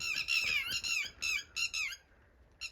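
Harsh squawks of birds circling near their nest come in quick repeated bursts, fairly close, with short gaps between the calls.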